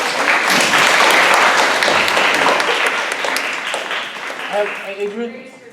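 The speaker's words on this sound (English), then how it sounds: "Let's give it a round of applause." Audience members clap at a neighborhood association meeting, a loud burst of applause that gradually thins out while people begin talking near the end.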